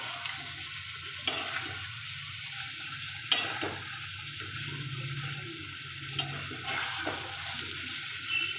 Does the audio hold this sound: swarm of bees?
no